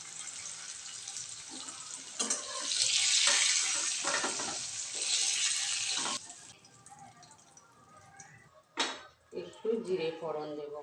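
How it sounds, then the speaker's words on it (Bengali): Potatoes fry in oil with bay leaf and salt in a pan for a Bengali dhokar dalna, a close, busy sizzle that swells and fades with stirring before speech takes over. "আলুগুলো ভাজা হয়ে গেছে"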